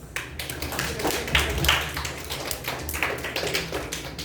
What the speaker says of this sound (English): First of all, let's give a round of applause.